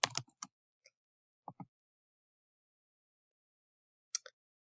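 Sparse, close keystrokes on a computer keyboard while login details are entered, a few quick clusters of clicks separated by silent pauses, with no talk.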